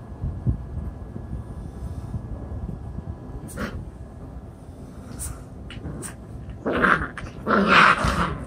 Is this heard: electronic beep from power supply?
no